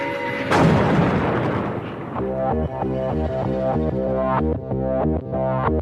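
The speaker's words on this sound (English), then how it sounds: "You're about to witness the mother of all bombs." The MOAB, the Massive Ordnance Air Blast bomb, goes off as one loud, near blast with a long rumbling wash. A steady droning musical score with a pulsing beat then carries on over the fading roar.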